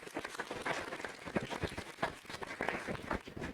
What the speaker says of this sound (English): So give him a round of applause and welcome Jim Baird.